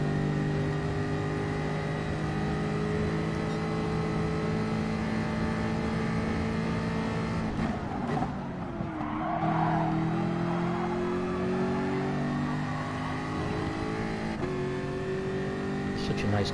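A Jaguar race car climbs through the gears at Bathurst in a racing video game, its engine loud and sustained with a cluster of sharp downshift blips midway and a brief tyre scrub, heard close and alone.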